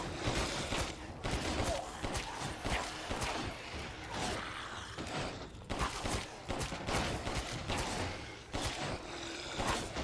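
Dense gunfire from the Resident Evil Village video game fills the stretch, rapid shots and bursts overlapping in a loud, continuous barrage with brief lulls, faint speech mixed beneath.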